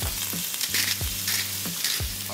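Pansit ingredients sizzle and fry in a hot pan, a steady close hiss broken by repeated rhythmic scrapes and stirs, with no talking.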